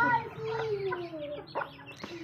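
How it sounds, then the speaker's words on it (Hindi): Hens cluck and chatter close by in a small flock that includes a rooster, with several overlapping calls and a drawn-out squawk over brief quiet voices. "अज मेरियां टोटल सारियां माशाला मुर्गियां ने, एक इन्हां च मुर्गा है"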